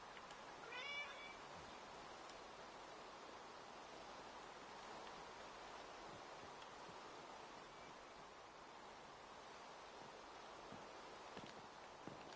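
A cat meows in Minecraft, a short mewing call near the start, followed by a steady hiss of game ambience with faint rustling.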